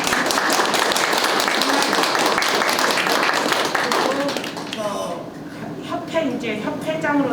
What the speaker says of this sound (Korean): 다시 한번 박수를 좀